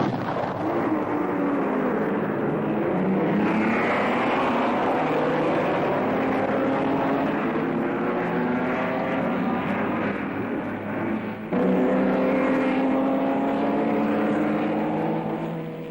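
1937 Mercedes W125 Grand Prix racing cars roar past at the German Grand Prix. A loud, sustained engine drone with shifting pitch carries on throughout, with no voices.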